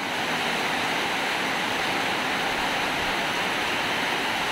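Heavy rain and strong wind from Typhoon Enteng pound a rooftop in Marilao, Bulacan, a dense, unbroken hissing roar that stays loud and even throughout with no voices.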